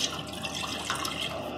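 One cup of water poured into a pan while making coconut rice, a steady close splashing trickle of liquid for a couple of seconds, with no one talking.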